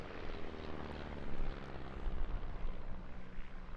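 An aerobatic display team flies past at the Eastbourne International Airshow on a windy day, a loud, steady engine roar with a broad rumble that holds close and full the whole time.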